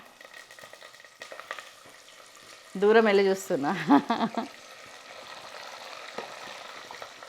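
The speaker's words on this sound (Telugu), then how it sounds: "ఆయిల్ కాగింది. ఇదిగోండి, ఆవాలు, మెంతులు, జీలకర్ర అన్నీ హాఫ్ టీ స్పూను పోపు, కరివేపాకు వేసేసిన." Mustard seeds, fenugreek, cumin and curry leaves hit hot oil as a tempering for Nellore-style fish curry, giving a loud, close crackling sizzle burst midway between stretches of quieter kitchen noise and someone speaking.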